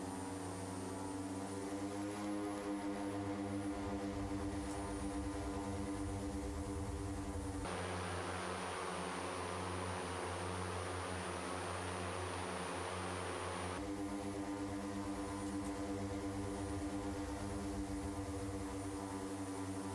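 A simulated OV-10 Bronco's propeller engines drone loudly in a flight simulator game, holding a dense, steady whine with tonal overtones that shifts pitch and intensity twice as power is advanced for takeoff.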